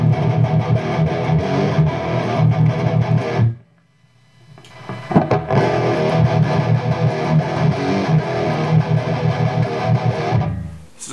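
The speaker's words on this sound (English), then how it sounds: "I'm playing through an amp that leaves a lot to be desired through the distortion channel" Loud, sustained distorted electric guitar playing through an amp's distortion channel with the effects pedal disengaged, with a brief pause in the middle before the gritty chords resume.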